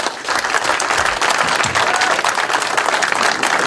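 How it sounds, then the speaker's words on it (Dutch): Loud, sustained applause from an indoor audience honouring a royal decoration award, many hands clapping in a dense, even roar from start to finish. "Dat kan bekroond worden met een geweldig applaus."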